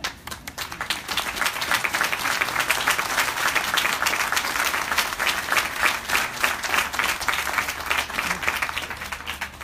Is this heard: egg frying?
no